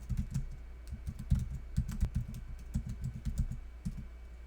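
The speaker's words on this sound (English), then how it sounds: "so far I've been typing out the full name of each of these files" Someone typing on a computer keyboard at a command line, a rapid run of light key clicks in uneven bursts with brief pauses, close and clear with no talking.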